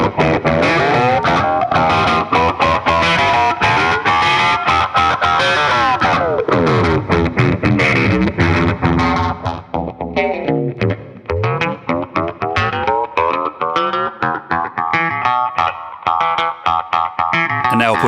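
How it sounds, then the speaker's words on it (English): A Catalinbread Bitters multi-effects pedal with ring modulation placed after distortion and a dual LFO snarls through a loud, continuous guitar passage, its warbling, metallic, detuned tones sweeping up and down without pause. "change the ring modulation so it is last in the signal path, that is after the distortion and the dual LFO"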